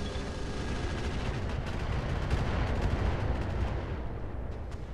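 An incendiary artillery strike in the Roguetech mech game gives a dense continuous rumble of rapid booming impacts and crackling fire, steady and loud for several seconds before thinning out, with no talking.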